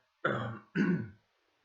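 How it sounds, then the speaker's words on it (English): Someone clears their throat twice in quick succession, two short rough rasps close to the microphone, then silence. "Excuse me while I clear my throat."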